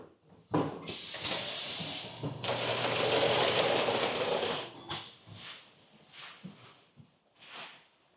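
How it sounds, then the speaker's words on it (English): A packing tape machine dispenses tape for plant shipments at a nursery, with loud ripping and screeching pulls followed by softer handling and rustling, no talk. "then the fun tape machine happens"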